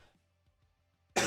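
A single short throat-clearing cough comes faintly after near silence, followed by a sudden loud burst of noise at the end.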